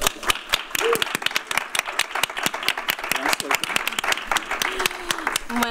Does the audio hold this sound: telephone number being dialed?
no